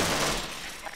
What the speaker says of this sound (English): How many times I gotta shoot you, dude?